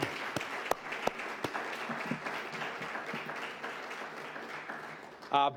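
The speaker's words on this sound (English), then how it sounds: "We can applaud for that." Audience applause during a county executive's budget address, a steady crowd of clapping in a hall with a few sharp nearby claps standing out, ending in a brief louder burst.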